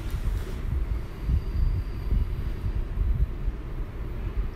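A train pulls into a platform at Tsuruga station in Japan, heard as a steady low rumble and rolling drone that holds at an even level throughout, with no voices.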